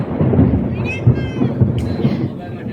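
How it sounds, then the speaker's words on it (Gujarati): Thunder from a lightning storm during a windstorm rolls as a loud low rumble with several surges, while voices talk over it. "ઓહો કેવી વીજળી થઈ"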